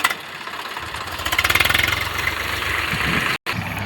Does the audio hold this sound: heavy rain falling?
no